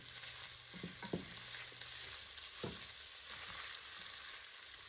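Italian sausage meat cooking in a soup pot gives a quiet, steady sizzle, broken by a few soft scrapes and clunks of a spoon, with no voices.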